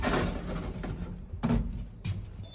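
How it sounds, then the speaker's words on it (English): A lift door slides open on the ground floor: a rumbling whoosh of motion with a couple of sharper clunks and rattles, fairly near, with no voices. "Door opening."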